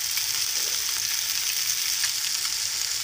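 Fish pieces frying in a little oil in a pan at home, a steady bright sizzle with fine crackling that stays loud and even from start to finish, with no voice.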